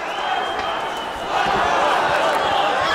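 Arena crowd at an M-1 Challenge MMA fight roars in a steady, dense wash of cheering that swells louder midway through, with a commentator's voice faintly woven in.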